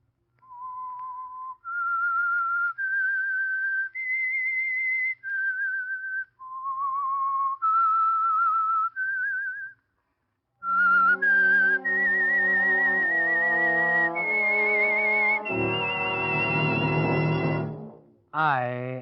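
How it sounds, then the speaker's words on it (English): A solo whistler carries the theme melody of the 1947 radio drama The Whistler, a clear, pure tune of held notes that moves into a brief orchestral passage near the end. "That whistle is your signal for the Signal Oil Program"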